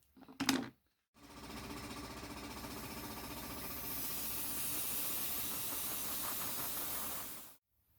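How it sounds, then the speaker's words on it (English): Compressed air hisses steadily through a chainsaw air filter for several seconds after a brief clatter, a close, even blowing rush that cuts off abruptly. "I've just blown the air filter out very gently, as you saw"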